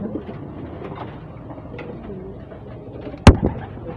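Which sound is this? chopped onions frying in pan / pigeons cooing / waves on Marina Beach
pigeons cooing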